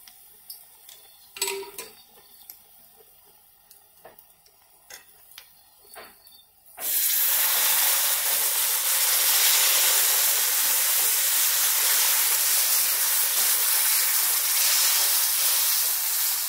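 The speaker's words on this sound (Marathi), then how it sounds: "आपण त्यात गरम पाणी घालूया." Hot water hits roasted masala in a pan and a loud, steady steaming sizzle takes over, lasting about ten seconds after some faint clinks of utensils.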